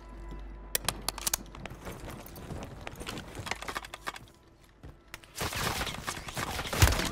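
Gunfire from the Warzone 3 video game, scattered sharp shots and short bursts popping at varying distances around a prison area, growing into a denser, louder clatter near the end with no talking.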